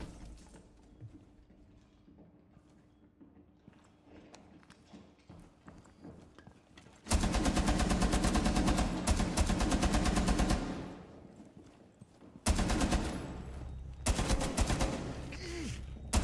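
Sustained bursts of LMG fire in Rainbow Six Siege, loud and rapid, come after a quieter stretch, with a long burst, a pause, then two more bursts.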